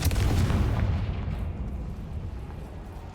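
A Confringo blasting spell from Hogwarts Legacy bursts with a deep, loud explosive boom at the start, then a rumbling tail that slowly fades.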